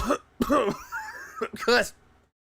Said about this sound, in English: I was pretending to cough and I actually did cough.